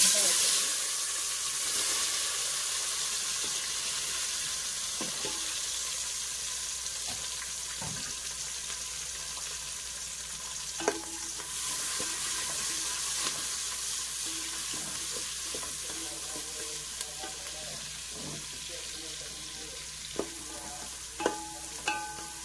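Onions frying for veg biryani, a steady close sizzle that runs throughout, with occasional stirring clicks and scrapes of a utensil against the pan and a voice speaking intermittently over it.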